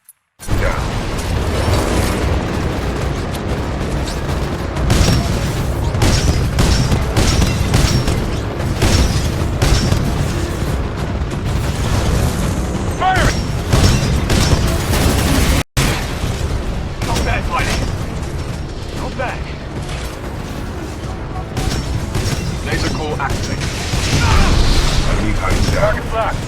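Titan weapons firing and blasts in Titanfall 2 keep up a dense, loud barrage of booms and mechanical clanks for the whole stretch, with combat voices cutting through and one abrupt dropout midway.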